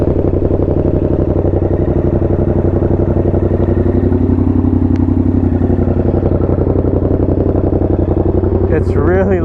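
A Yamaha FZ-07 fitted with an SC-Project exhaust idles on a cold start, with a steady, loud, close engine rumble running throughout and a voice talking over it.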